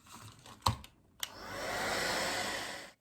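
Hair dryer blowing on a first coat of paint for napkin decoupage, a steady close whoosh after a few clicks and handling knocks at the start.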